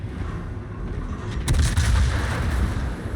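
Heavy warship guns boom in a naval video game, with one loud salvo that rolls into a deep, rumbling echo against a constant low engine drone.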